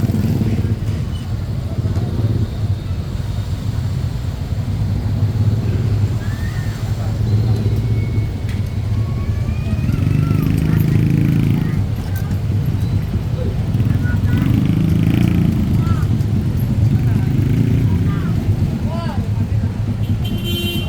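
Dense road traffic with a cluster of motorcycle engines droning together, a steady close-up hum of vehicles with a faint horn toot amid continuous background noise.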